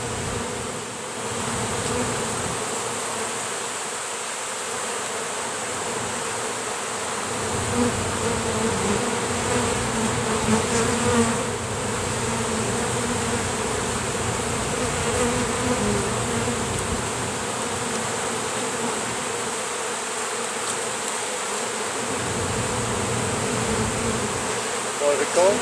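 Honey bees swarming on a truck tire, a continuous dense buzzing drone heard close up and steady throughout, with faint voices in the background.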